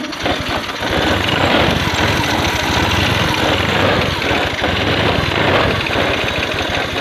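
A Honda Scoopy FI scooter with a weak crankshaft position sensor fires up and idles close by, its small engine putting out a steady, rapid, vibrating putter throughout.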